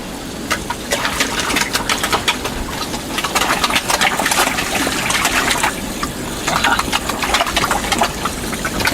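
Fish thrash and splash at the surface while being fed at an urban farm, a dense, continuous churning of water with steady engine-like pump hum underneath, loud and close throughout.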